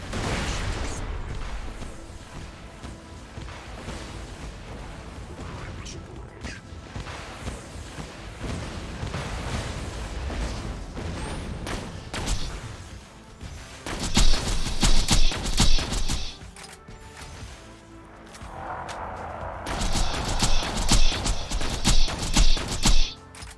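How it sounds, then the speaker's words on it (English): Missiles and explosions in a Borderlands video game, with rapid bursts of weapon fire and blasts that grow louder and denser in the second half, among mechanical clatter. "Watch out for these missiles."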